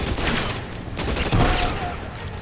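Gunfire from a BAR automatic rifle in the L.A. Noire video game, a dense rattle of shots in a sustained burst with no talk over it.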